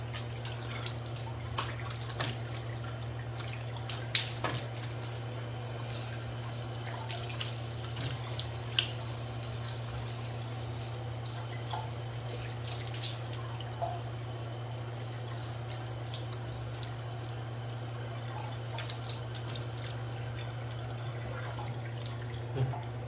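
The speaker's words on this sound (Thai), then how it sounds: "น้ำเริ่มใส่แล้วนะ" A tap runs steadily while someone washes their face, a constant stream broken by small splashes and drips over a low, steady hum.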